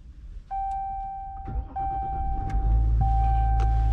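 Inside a 2022 Dodge Ram with the EcoDiesel engine, dashboard chimes ring repeatedly before the diesel cranks and fires, a deep rumble swelling and holding loud near the end.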